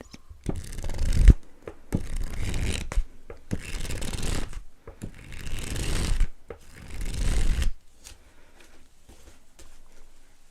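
Pages riffle and flap in a series of rustling bursts, about five passes with short pauses between, close up and without speech.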